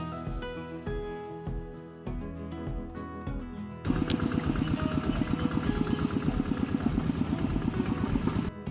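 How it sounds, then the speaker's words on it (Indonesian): A rice transplanter engine chugs steadily in a paddy field in Tebas district, its loud, close, rhythmic pulsing starting suddenly partway through after a few seconds of tonal background music. "Mesin tanam ini bergerak perlahan menyusuri petakan sawah, menanam bibit dengan jarak yang teratur dan seragam."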